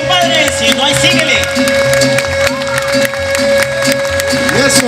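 Crowd applauding and cheering at a mariachi performance during the Lekeitio festival, heard under an amplified voice and music, with continuous clapping and shouts throughout.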